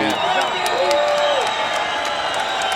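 Fight arena crowd at a Jens Pulver vs BJ Penn bout, a steady loud roar of cheering and noise filling the whole stretch, with a commentator talking over it.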